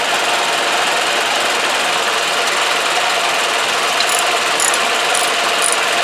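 A ratchet snugging the transmission pan drain plug on a Pontiac Sunfire, threading into aluminum: a steady, loud, dense clicking rattle that runs unbroken for about six seconds.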